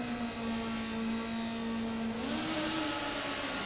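Formula Student race car engine at a historic skidpad event, a steady high droning tone heard from a distance that bends upward as it revs, moderately faint over a broad background wash.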